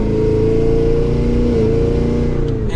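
A 2023 Cadillac Escalade V AWD engine, in manual mode, revving under a light press of the throttle: a loud, close, deep steady roar that rises slightly in pitch, with no talking.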